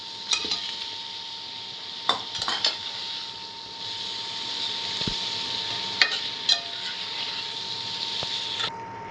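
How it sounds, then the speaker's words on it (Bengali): Tilapia fish pieces stirred into a cumin spice masala in a metal pan, with repeated scraping and clinking of a spoon against the pan over a steady sizzle-like hiss, sharper knocks now and then, no talking. "তো মশলার সাথে ভালোভাবে মাছটা আমি মিশিয়ে নিয়েছি।"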